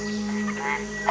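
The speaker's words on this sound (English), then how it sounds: "In competition with other male frogs, the vocalizations increase" Male frogs calling in competition, a steady close chorus of tonal croaking notes layered over one another, continuous through the short stretch.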